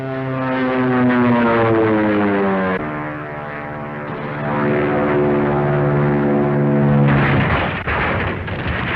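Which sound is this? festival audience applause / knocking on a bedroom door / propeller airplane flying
propeller airplane flying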